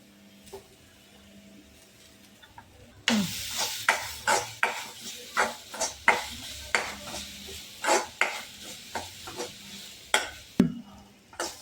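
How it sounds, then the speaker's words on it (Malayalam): After a few quiet seconds, a spoon scrapes and stirs crushed coconut roasting on low heat in a pan, in steady repeated strokes over a faint sizzle. "ഇനി നമുക്ക് തേങ്ങ തട്ടിയിട്ട് വറുത്തെടുക്കാം"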